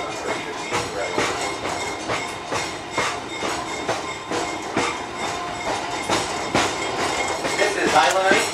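A train on the Pittsfield & North Adams line between Adams and North Adams, Massachusetts, rolls steadily with rhythmic clickety-clack of wheels over rail joints, loud and close, with a faint squeal near the end.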